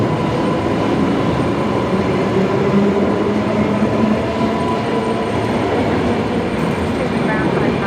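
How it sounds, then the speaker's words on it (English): Beneath an airport, an air train departs with a continuous loud rumble and rail noise lasting throughout. "Sounds like the air train departing at the same time below us."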